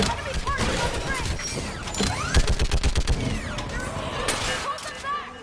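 Mounted gun fire in the Mass Effect 3 battle, with a dense run of rapid shots that peaks midway. It sounds amid constant gunfire, crashes and shouting voices.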